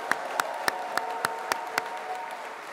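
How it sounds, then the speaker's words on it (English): A graduation ceremony crowd applauds, with a steady wash of clapping and a few sharp, evenly spaced claps standing out close by. "Let's have a really big round of applause."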